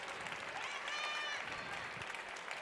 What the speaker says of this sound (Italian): E facciamo un grande applauso alla nostra Elisa Dossi